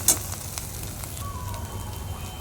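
Raw Maggi noodles sizzle in a hot pan with a steady crackling hiss, a sharp clack of stirring near the start and softer scraping as they are turned.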